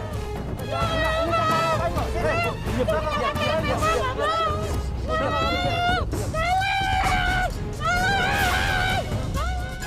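Crowd commotion with shouts and screams during a police and joint officers' raid on street beggars at the Sunter Agung intersection in Tanjung Priok, North Jakarta, loud and continuous, with raised voices and babble throughout.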